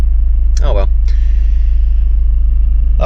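A 1996 Mercedes-Benz C220 diesel idles just after a cold start with a steady, loud low rumble that runs throughout, while a person talks briefly over it.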